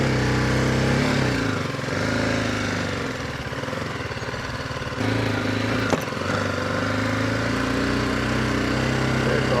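A motorcycle rides along a Konkan village road, its engine thrumming steadily and loudly close by with a rough, rattling drone that barely changes throughout.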